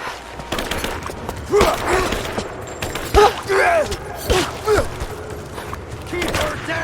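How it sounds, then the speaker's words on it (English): Bursts of gunfire in the video game Rise of the Tomb Raider, several sharp shots in clusters amid a noisy battle, with character voices shouting over the fighting. "Give me suppressing fire!"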